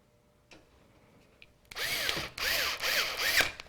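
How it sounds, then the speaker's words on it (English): A graphics card bracket being fastened into a PC case for a Core i7-8700K gaming build, with a few soft taps, then a loud buzzing whir of a powered screwdriver driving screws in close bursts. "now I'm going to secure it back with the screws I just removed."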